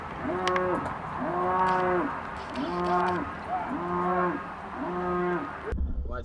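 Cattle in a pasture low out in a steady series of five long, drawn moos, evenly spaced and fairly close, with quiet rural ambience behind them.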